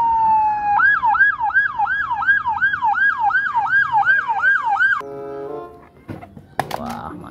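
A loud, close wailing siren from a toy ambulance cycles rapidly up and down for several seconds, then gives way to a brief electronic jingle and clatter.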